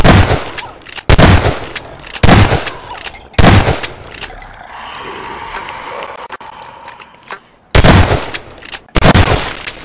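Video game gunfire in a Combine versus Zombies battle: loud, close bursts of rapid automatic shots repeating every second or so, a quieter stretch with distant rumbling in the middle, then more bursts.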